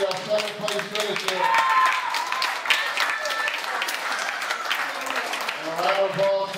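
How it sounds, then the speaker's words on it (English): Crowd applause at a World Series of Poker tournament table, steady clapping from many hands with talk over it throughout. "About a round of applause for him."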